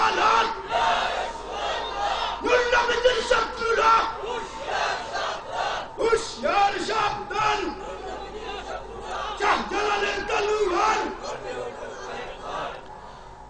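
A large crowd at an outdoor Islamic jolsa gathering at a madrasa chants the takbir in loud, repeated rhythmic bursts, each call rising and falling in unison over about a dozen seconds.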